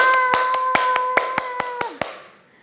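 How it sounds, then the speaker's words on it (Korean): A group of children at a church school summer programme clap hands in a brisk, roughly even rhythm of about nine sharp claps, close and clear over a sustained musical tone, then stop. "친구들 미리 박수 치면서 시작해 볼까요?"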